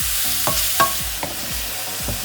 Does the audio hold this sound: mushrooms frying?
yes